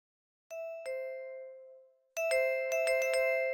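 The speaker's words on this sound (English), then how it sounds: "Whoever it is keeps ringing the doorbell." A video game doorbell chimes twice, then rings again in a rapid run of repeated bright ding-dong tones, clear and insistent with no voices.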